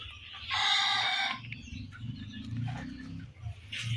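Chickens on a poultry farm, with a loud rooster crow rising near the start above steady clucking and murmuring from the flock, which carries on throughout.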